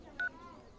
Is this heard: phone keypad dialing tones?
yes